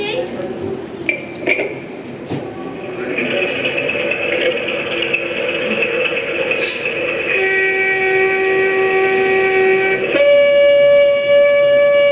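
A train rumbles past nearby at the National Railway Museum in York, its horn sounding long sustained tones that grow louder toward the end, with voices chatting underneath.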